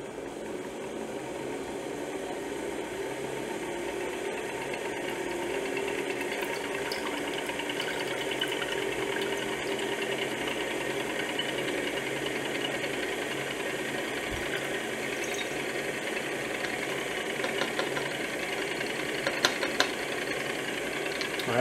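A steady mechanical whir from a stirrer mixing a dichromate solution holds at an even level with no pauses, a low continuous motor drone close by with no one talking.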